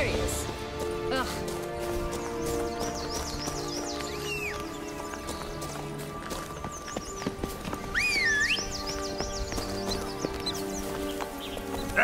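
Horse hooves clip-clop steadily as Roach trots in The Witcher 3 game, mixed with background music and occasional bird-like chirps, while voices talk over the gameplay.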